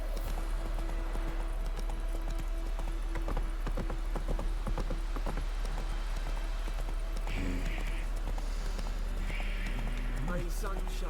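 Hooves of Roach, the horse in The Witcher 3: Wild Hunt, beat a quick galloping rhythm over a constant low hum and game ambience, with a few brief effects toward the end.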